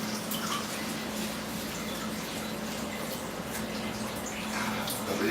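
Running tap water steadily washes a waxed cucumber, a continuous moderately loud splashing rush with no breaks, close by and with no one talking.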